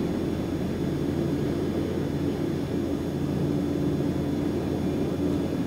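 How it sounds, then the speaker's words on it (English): Quest Kodiak turboprop engine idling in X-Plane 11, a steady, even rumbling drone with a constant hum and no variation in level throughout. "why don't we just idle the aircraft completely?"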